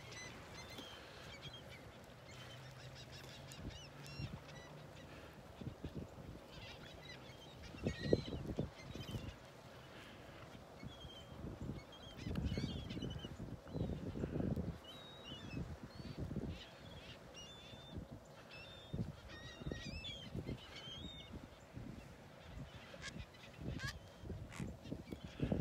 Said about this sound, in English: There's a bunch of birds over on the other side of the pass. They're making a racket.